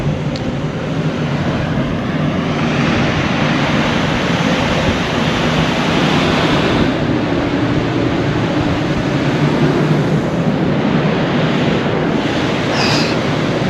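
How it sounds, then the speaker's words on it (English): Loud, steady roar of strong wind buffeting outdoors at the Harwich ferry port, a dense rushing noise that continues throughout without any speech. "I'll tell you, it's windy here."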